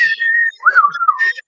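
A person whistles a short melodic phrase, a clear sliding tune lasting about a second and a half, close and alone.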